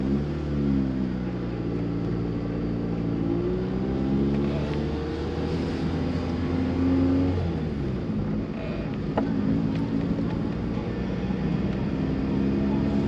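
A 1991 Honda Civic hatchback on the move, its engine droning and shifting pitch as it accelerates through gears, with road rumble and wind noise heard steadily from inside the car.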